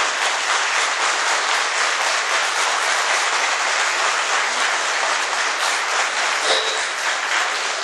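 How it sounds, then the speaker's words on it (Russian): Sustained, dense applause from a church seminar audience in Mykolaiv, loud and steady throughout with no pauses and no speech over it. "Аплодисменты вам."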